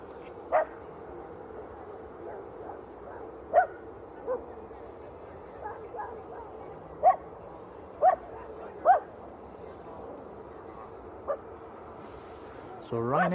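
Small dog barking in sharp, scattered yips, about eight spaced across the stretch, over a low steady background hum.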